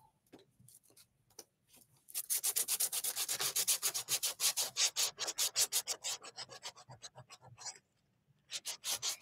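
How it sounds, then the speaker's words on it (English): Sandpaper rubbing over a painted wooden angel-wings-with-cross craft piece, close and crisp, in quick rhythmic back-and-forth strokes after a few tentative scrapes, pausing briefly near the end before resuming. "And I'm sanding it because I don't want it to be real bright"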